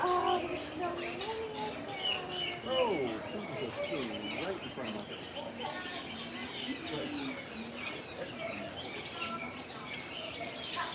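Exotic birds chirp, coo and call throughout at Disney's Animal Kingdom, a dense, steady chorus of varied tweets mixed with people talking in the background.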